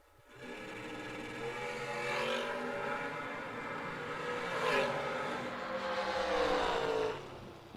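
Dragsters race down a drag strip at a championship meet, heard as distant engine roars rising and falling in several swells, moderately faint, without talk.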